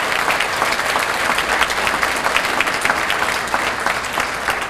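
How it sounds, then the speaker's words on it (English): School district audience clapping in a steady, loud round of applause for a team at an annual district address, dense and continuous without a break. "So let's give them a round of applause"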